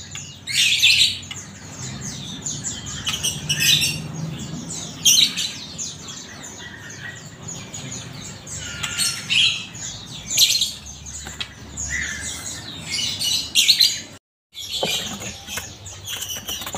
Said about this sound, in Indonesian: Murai muda hutan.